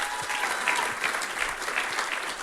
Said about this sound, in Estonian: Teie aplaus Jumalale.